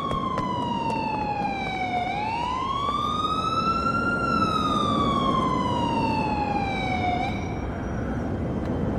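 A police car siren wails in GTA 4, one loud continuous tone sweeping down, rising back up and falling again over steady traffic and engine rumble, with no talk.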